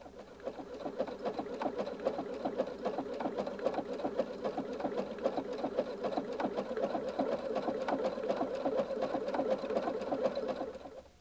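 A Husqvarna Viking Designer II sewing machine stitching lace edge to edge onto fabric, a steady fast rhythmic needle chatter running evenly and close for the whole stretch, with no talking.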